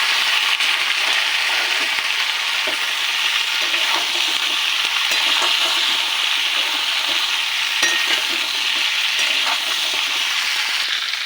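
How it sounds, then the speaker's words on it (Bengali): Ridge gourd, pumpkin, eggplant and stems frying in a pan for a vegetarian dish, a loud steady sizzle that runs throughout with faint stirring scrapes and no voices. "খুব ভালো করে ভাজবো।"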